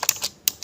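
Quick keystrokes on a computer keyboard while typing a name into a Microsoft Word table, a few crisp close clicks in fast, uneven rhythm with no talking.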